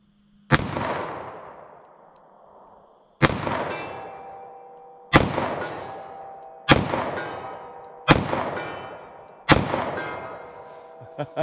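Six loud, sharp .380 ACP pistol shots with Speer Gold Dot ammunition, fired one at a time at irregular intervals of roughly one to three seconds, each crack followed by a ringing decay.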